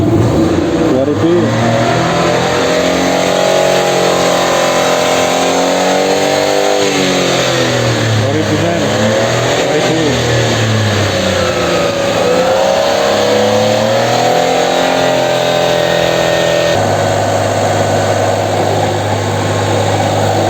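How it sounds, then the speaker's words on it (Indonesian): A car engine revs up to about 2000 RPM, its loud, close drone rising and falling in pitch through repeated throttle sweeps, with voices talking over it. "RPM naikkan 2000."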